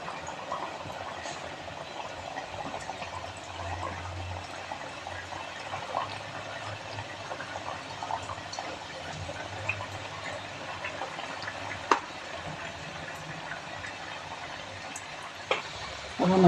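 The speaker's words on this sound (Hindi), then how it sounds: "अब हम अच्छे से कचौड़ियों को तल लेंगे" Urad and moong dal kachoris fry in hot refined oil over a low flame, giving a soft, steady bubbling sizzle that continues throughout, with a few small clinks near the end.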